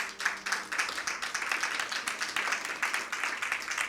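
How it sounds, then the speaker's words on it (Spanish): Congregation applauding the Lord in a church service, a steady dense wash of many hands clapping at moderate level with no talk over it. "Alguien dele un aplauso fuerte al Señor."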